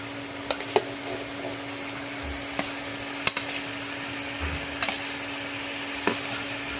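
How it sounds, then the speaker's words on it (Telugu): Chopped tomatoes frying with onions in a pan for tomato curry, a steady close sizzle with occasional sharp clinks of a spoon stirring against the pan. "ఆనియన్ అయింది, కాస్త ఫ్రై అయిన తర్వాత ఇప్పుడైతే టొమాటోలు వేసుకోండి"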